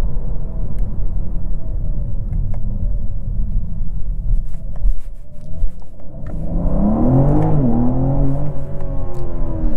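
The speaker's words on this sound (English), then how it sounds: "Let me turn off that fake engine noise so I can show you guys what it sounds like." A 2024 BMW M4 Competition xDrive with its synthetic engine sound switched off drives along, a steady low engine rumble with wind noise, then revs climb sharply near the end, with the turbo blow-off whoosh faint within it.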